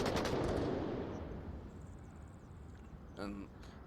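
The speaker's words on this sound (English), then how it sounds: "Lots of gunfire coming out." Gunfire in the VR shooter Onward during a competitive league match, with a dense burst of rapid shots at the start fading into a lingering rumble, then a brief metallic rattle, while a voice talks over it.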